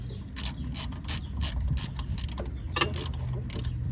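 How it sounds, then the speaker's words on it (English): A hand ratchet clicks rapidly while starting a bolt's threads on a BMW F10 rear differential, a steady run of close metallic ratcheting strokes with short pauses, no talking. "Just go with the ratchet and see if the threads are actually caught"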